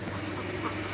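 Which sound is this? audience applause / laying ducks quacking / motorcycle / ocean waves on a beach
laying ducks quacking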